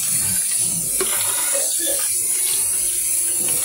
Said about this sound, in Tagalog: maghuhugas na tayo ng plato